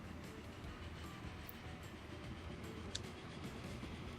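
A train runs along the track in the Transport Fever railway management game, giving a continuous low rumble with faint clicking of wheels over rail joints, steady and moderately loud throughout, with no speech.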